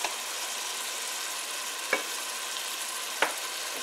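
Shaan masala frying in hot oil for a Sindhi chicken biryani, a steady close sizzle throughout with two brief sharp stirring scrapes.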